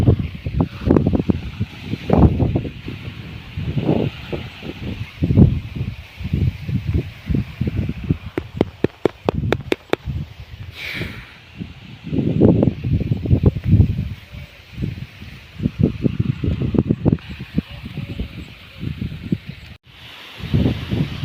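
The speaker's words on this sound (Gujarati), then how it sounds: "અત્યારે પવન આવો છે, જુવારને કિલોરા કરે છે." Wind sweeps through a jowar (sorghum) field on a farm in Gir at sunrise, with repeated gusty bursts of rustling stalks and leaves and some buffeting on the microphone, rising and falling in waves.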